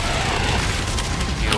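A Helldivers 2 strafe run sends dense, rumbling explosions close by, a continuous roaring barrage with crackling bursts filling the whole moment at high loudness.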